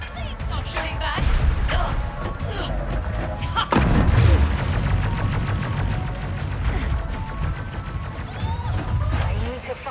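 Gunfire erupts in a shootout in the video game Ratchet & Clank: dense, loud bursts of rapid shots mixed with heavy thuds, crashes and a big impact near the middle, continuing steadily throughout.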